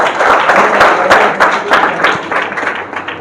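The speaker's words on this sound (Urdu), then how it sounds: "تالیاں بجائیے اس بچے کے لیے" An audience claps for a child at a school event, a dense burst of loud applause with individual hand claps standing out, fading slightly toward the end.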